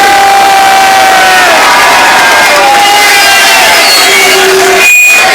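A loud crowd shouts continuously at a street demonstration in London, a dense wall of voices with a brief shrill whistle-like tone near the end.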